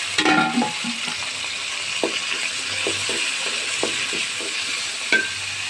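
Ginger and garlic fry in a pan, sizzling steadily while a utensil stirs them with scattered scraping clicks and taps; no one speaks.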